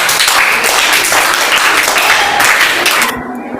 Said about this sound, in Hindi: चलिए ठोको ताली